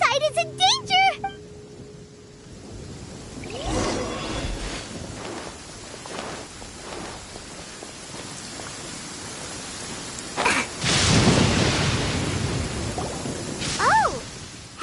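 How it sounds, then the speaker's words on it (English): Rain pours steadily in a Genshin Impact thunderstorm, with heavier bursts of rumbling thunder and downpour swelling near the end, while voices talk over parts of it. "Where is the storm headed?"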